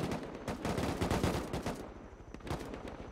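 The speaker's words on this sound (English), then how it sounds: "they're hearing gunshots" Gunfire from the Rust video game rattles in dense bursts of rapid shots, followed by a short lull and a few scattered single shots.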